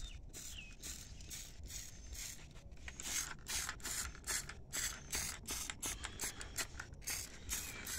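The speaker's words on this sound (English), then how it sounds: "I'm going to change to a spray" Meguiar's Citrus Power Cleaner Plus sprayed from a trigger bottle onto a browned tire: a quick run of short, close spray bursts with rubbing and scraping around them, and no talk.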